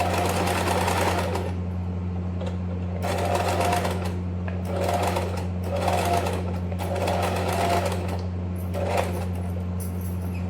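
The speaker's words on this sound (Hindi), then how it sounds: "फिर मशीन थोड़ी सी चलानी है, फिर इस बटन को दबाना है" A sewing machine stitches lining fabric in repeated bursts of steady whirring and needle clatter, starting and stopping several times over a constant low electrical hum, close up and loud.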